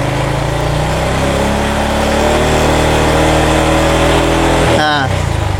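A Honda Revo 110 motorcycle that misfires when ridden runs loud and close, its engine note steady and then shifting sharply near the end as the throttle is worked.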